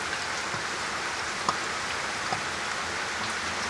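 Steady rain from a passing storm pours down at a small farm, a dense continuous hiss with occasional louder drops and no voices.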